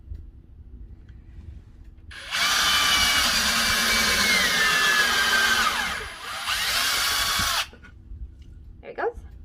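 Power drill revs up and bores through a piece of scrap wood set on a tabletop, a loud sustained whine lasting several seconds with a short dip in the middle, then stopping, with quiet background before and after.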